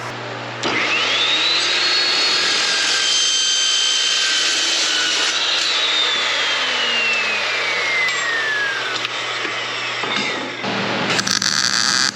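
A power saw cutting 1.25-inch square steel tubing for a golf cart battery frame, a loud continuous motor whine with a shifting, falling tone as the blade bites through the metal, then spinning down.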